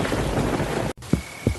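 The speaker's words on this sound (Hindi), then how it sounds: "आसमान में बिजली कड़कती रही, बारिश मूसलाधार बरसती रही" Heavy rain pours in a dense, loud hiss, then breaks off to a quieter patter with a couple of low, thudding rumbles.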